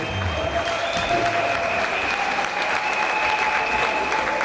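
Congregation at a church service breaking into sustained, dense applause, steady and loud throughout, with faint crowd murmur beneath.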